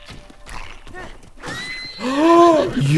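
A horse neighs in The Legend of Zelda: Breath of the Wild, a loud rising whinny near the end, preceded by softer snorts and game sounds.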